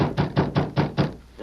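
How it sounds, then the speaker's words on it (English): Five evenly spaced knocks on a wooden door, a radio drama sound effect, sound close and moderately loud in a steady rhythm, then stop. "Finally, he found it and knocked on the door."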